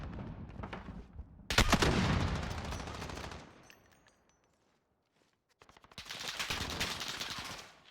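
Gunfire in a first-person shooter match, rapid automatic bursts close by, a loud stretch, then a near-silent pause before another sustained volley, with faint footsteps between.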